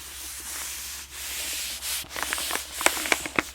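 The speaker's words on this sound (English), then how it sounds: "And every part of the wrapping sounds a little different." Soft rustling and rubbing of a plastic book wrapping being peeled and unfolded, close and quiet, with a few crisp crinkles near the end.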